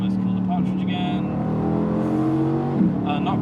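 A Mercedes-AMG GT C Coupé engine drones and climbs in pitch from inside the car while driving, a steady rising rev tone with a brief pop, with someone talking over it throughout.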